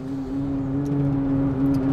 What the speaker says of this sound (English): That noise you're hearing is my kayak vibrating